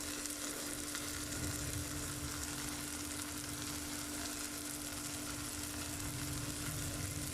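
Turmeric and spices sizzle steadily in a hot pan of pav bhaji, a continuous close, even frying hiss with a faint steady hum beneath, no voices.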